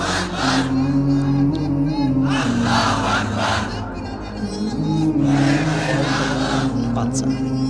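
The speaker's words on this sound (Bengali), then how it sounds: "একজন সিঙ্গেল যুবক যে আছো ওখানে দাঁড়িয়ে লিল্লাহি তাকবীর বলবা" A large religious gathering roars out the Lillahi Takbir chant in loud, sustained waves of shouting voices, with a short dip in the middle before the swell comes back.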